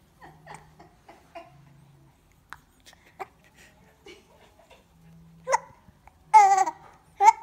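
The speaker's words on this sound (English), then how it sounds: "He's hiccuping." A 16-week-old baby makes small scattered hiccup-like sounds and soft babbling noises, quiet and close, ending in a few louder squealing vocal bursts.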